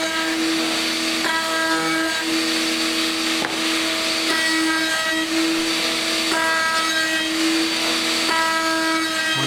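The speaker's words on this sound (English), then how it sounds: "Once I get done cutting the bevel on the outside of all of the shells, then I'll be ready to start doing the inside." Router cutting an outer bevel along the bearing edge of a wooden stave drum shell: a loud, steady high-pitched whine with tonal harmonics, briefly dipping and resuming several times as the bit moves along the wood.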